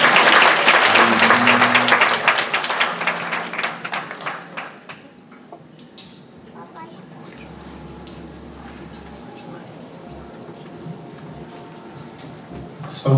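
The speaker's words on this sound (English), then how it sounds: "Can you give them a hand clap?" Congregation applause at a Sunday church service during a baby dedication, loud and sustained for about five seconds before fading into quieter room sound with low rumbles and a voice.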